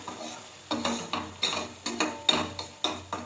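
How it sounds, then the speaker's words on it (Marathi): Masala is sautéed in oil and butter, a spatula scraping the pan in a regular rhythm of about nine quick strokes over a soft background sizzle. "तेलात आणि बटरमध्ये छान हा मसाला मस्त असा परतून घ्यायचा आहे"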